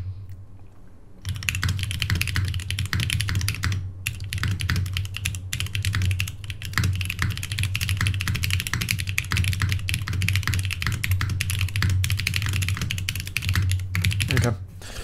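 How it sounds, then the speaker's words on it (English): Very fast typing on a computer keyboard, a dense continuous clatter of key presses sustained for about fourteen seconds, close and steady under a low background hum. "That was kind of fucking clean typing."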